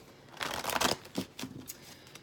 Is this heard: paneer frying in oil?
no